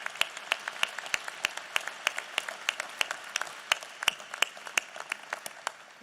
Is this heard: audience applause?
yes